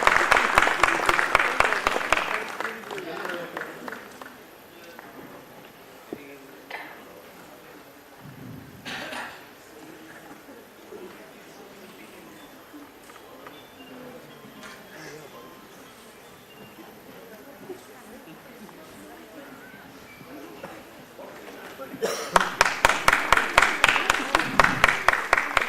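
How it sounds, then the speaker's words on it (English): An audience at a foundation day celebration breaks into loud, dense applause to welcome a guest on stage. The clapping fades into quieter crowd murmur and scattered sounds for most of the stretch, then surges loudly again near the end. "please bring a big round of applause to welcome Mr. Preetam Bhagat on the stage."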